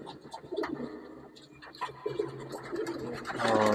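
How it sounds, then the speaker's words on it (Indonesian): A Marcopolo-line pigeon coos in a few soft, rolling bursts nearby, mixed with light scratching and shuffling sounds. "Oh, itu burungnya ya."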